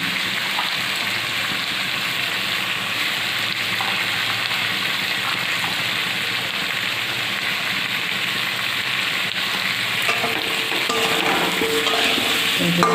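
Salt, chilli powder, turmeric and dal fry in a pan for khichuri, giving a loud, steady sizzle with occasional stirring scrapes that runs unbroken from start to end.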